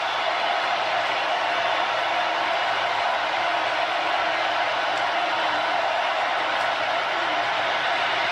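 Steady roar of a packed stadium crowd at the Alabama vs Auburn Iron Bowl college football game, a dense, even wash of cheering and noise that holds without a break and carries no clear voices.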